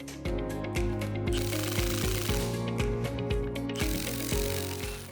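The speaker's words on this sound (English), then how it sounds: "Another turn on the first bolt, another turn on the second bolt." Bolts on an underground insulation piercing connector at a service centre are wrenched tighter, giving loud close ratcheting clicks in a steady repeated rhythm with metallic ringing, and no voices.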